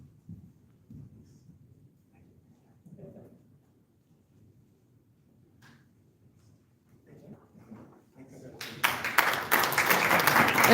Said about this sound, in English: And keep applauding.